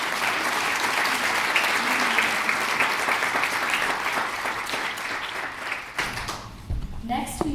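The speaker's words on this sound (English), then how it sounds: "Let's have one big round of applause." Audience applause at a youth entrepreneurs investor panel event, a sustained burst of clapping from a crowd that gradually thins, followed by a few sounds of movement near the end.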